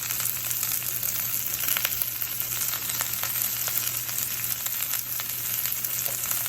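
Red, yellow and green peppers sizzle in a pan for honey garlic chicken, an even, steady frying hiss with scattered crackles and pops, close and consistent throughout, with no talking.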